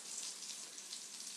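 Potato wedges shallow-fry in plenty of oil in a pan, making a soft, even, continuous sizzle and crackle, faint and with no voices.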